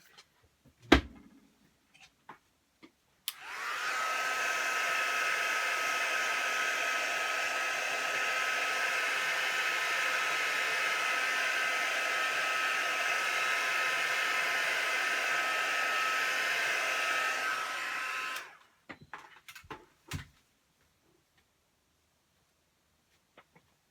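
A handheld heat dryer runs for about fifteen seconds to dry a stamped Christmas snow angel paper craft, a steady loud whirring hum with handling clicks and taps before and after.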